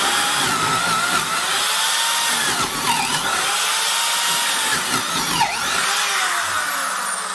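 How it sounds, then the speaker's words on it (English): DeWalt D21009 3/8-inch drill with a progressive flute bit bores into wood, a loud, close motor whine with the pitch dipping as the bit bites and grabs in repeated surges. "This is one of those progressive flute DeWalt bits, and man, they just grab and want to like screw themselves into the wood."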